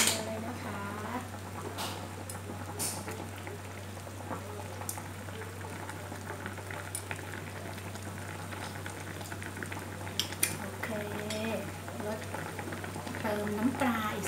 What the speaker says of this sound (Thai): รอให้เขาเดือดเข้ากันดีแล้วค่อยชิมนะคะ